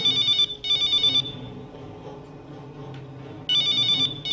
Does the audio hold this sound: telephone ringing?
yes